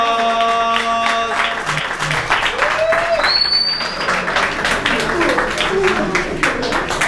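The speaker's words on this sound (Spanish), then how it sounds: "Aplausos, aplausos, aplausos," Loud, close applause and cheering fill a bar after a 4x4 burger-eating challenge, with music running beneath the crowd noise throughout.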